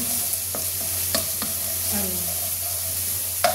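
Garlic sautéing in a hot wok with spring onion for vegetable fried rice, a steady close sizzle with a few sharp clinks and scrapes of a spatula against the pan.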